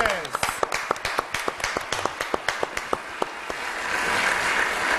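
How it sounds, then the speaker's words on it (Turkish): Clapping on a Turkish TV quiz show, sharp distinct claps from a few people, close and regular at first, that then blend into a louder wash of audience applause. "Hakan Bey dönüp bir alkışladı"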